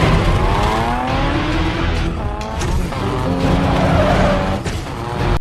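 Street race cars from The Fast and the Furious: Tokyo Drift roar continuously and loudly for the whole stretch, with engines revving and tires squealing and skidding through a turn, no talk.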